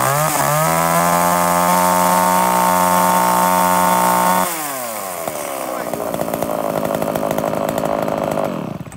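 A chainsaw engine runs loud and close at a high steady whine, then drops and sputters into a rougher, lower idle.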